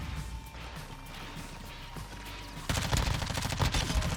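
Gunfire in Call of Duty Modern Warfare 2 starts with a faint distant crackle, then a loud dense burst of rapid shots takes over for the last second and a half.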